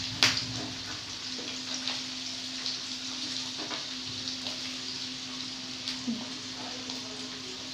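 Potato and capsicum fry for dalia, a soft continuous sizzle with occasional light stirring scrapes and clinks, fairly quiet and steady, with a faint hum beneath.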